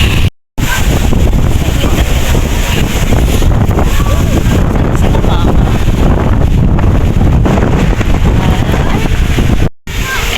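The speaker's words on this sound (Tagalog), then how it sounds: "Ang lakas ng hangin ngayon dito sa Santo Tomas." Strong wind roars and buffets the microphone almost continuously, loud and rumbling, cutting out briefly near the start and end, outdoors at the Padre Pio Shrine in Santo Tomas, Philippines.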